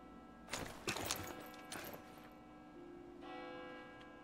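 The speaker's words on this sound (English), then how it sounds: "Oh, the church bells singing." Church bells in the video game Super People, several distant, resonant clangs with a lingering ring, soft and far off against a low hum, with no talking.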